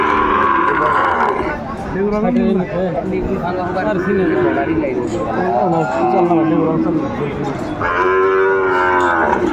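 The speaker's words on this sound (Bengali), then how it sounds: "দর্শক শুনছিলেন শাহিওয়ালের ষাঁড় বাচ্চা।" A Sahiwal bull calf and other cattle at a livestock market, with loud, drawn-out moos close by while people talk over them.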